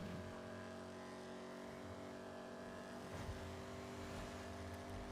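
A car cruises in GTA 5 with a low, continuous engine hum that stays quiet and even, with a slight rise in the middle and no talk.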